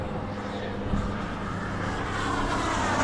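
A radio-controlled model warplane drones steadily in the distance as it comes in to land, its engine a broad, even hum that grows slightly louder and brighter toward the end.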